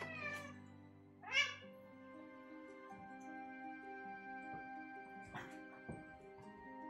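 A pet cat meows in a kitchen during gingerbread house making, one clear loud meow near the start followed by a quieter second call, with a low steady hum and a few soft knocks behind it.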